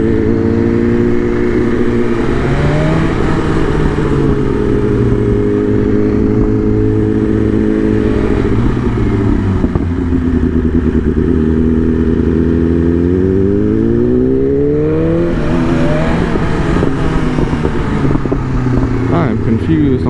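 Motorcycle engines drone and rev steadily for about twenty seconds, with pitch sweeping up and down as the throttle changes and a harsher rise near the end. The engines are close and loud throughout.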